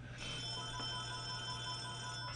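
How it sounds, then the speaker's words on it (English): A telephone rings at home, its bell tones faint and steady under a constant low hum, with no voices. "And the phone is ringing at my house."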